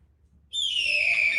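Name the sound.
person imitating a hawk call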